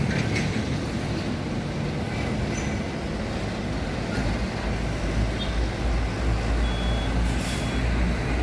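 Nissan Diesel CKA87 tractor head truck hauling a container, its diesel engine droning loud and steady with heavy low rumble throughout, a faint high beep briefly audible near the end.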